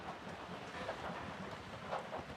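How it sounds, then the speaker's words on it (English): Heavy rain pouring outside, a faint steady hiss of falling water with soft patters, distant and continuous with no voices. "it's pouring rain outside"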